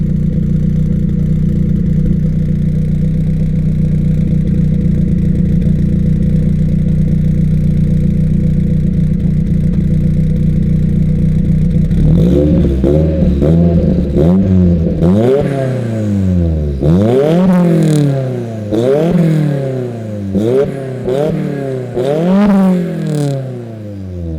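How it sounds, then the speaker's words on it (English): A Ford Focus RS MK1 engine idles steadily and loudly at first, then is revved in a series of sharp rising and falling blips, close up, with no voices over it. "It'll be illegal to come here and do a video on it and not give it a rev."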